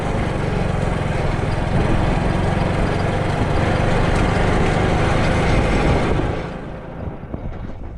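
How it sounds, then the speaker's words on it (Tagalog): Boat engine at a creek in the Philippines runs loud and steady close by for about six seconds, then drops away to a quieter rumble with scattered knocks. "Magpapandar tayo ng makina."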